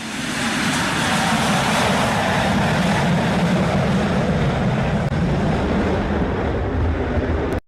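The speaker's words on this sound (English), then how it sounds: "Look at this crazy wind." Strong, steady wind roars around an aircraft during a landing, a dense broadband rush that holds loud and unbroken for several seconds before cutting off abruptly.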